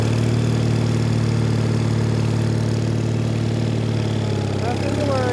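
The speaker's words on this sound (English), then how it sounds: "On today's episode, we're driving trenchers. Sorry, neighbors. Just driving a trencher." A Case trencher engine idles loud and close, holding a steady, unbroken low drone with a constant rumbling hum throughout.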